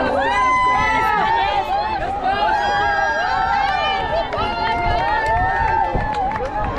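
Spectators line the route of the Comrades Marathon in South Africa, a loud continuous mass of cheering, whistles and shouting voices as runners pass close by.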